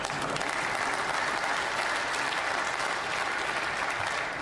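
A snooker crowd at the 2023 English Open applauds steadily after a positional shot during Ronnie O'Sullivan's clearance, a dense, even wash of clapping holding at constant loudness throughout.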